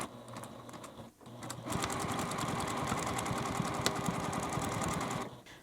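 A sewing machine stitches along the handle of a multi-zipper fabric pouch, with a short hesitant start followed by a steady mechanical whir that runs for several seconds before stopping.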